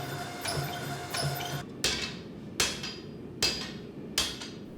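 Hammer forging steel for a katana: several sharp ringing blows struck at a steady rhythm, close and loud, following a stretch of continuous workshop noise with no talking.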